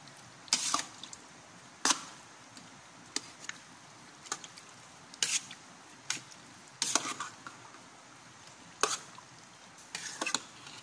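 A gulaman and sago mixture is stirred in a container, making a series of scattered sharp clinks and splashy scrapes over a quiet background, with no voices.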